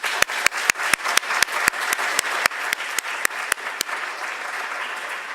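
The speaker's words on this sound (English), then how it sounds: "So let's give them a round of applause." An audience applauds with distinct, loud claps at first that settle into a thinner, continuous patter, close and without any talking.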